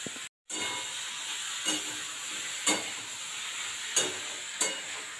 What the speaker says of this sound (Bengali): দিয়ে দিচ্ছি পোস্ত বাটা।